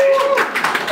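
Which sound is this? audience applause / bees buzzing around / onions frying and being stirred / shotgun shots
audience applause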